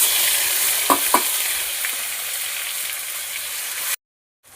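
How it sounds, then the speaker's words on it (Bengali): Spice paste for fish curry, ground ginger, onion and green chili, fries and is stirred in a pan: a steady close sizzle with two sharp scraping knocks early on, cutting off abruptly near the end. "মশলাটা কষিয়ে নেব।"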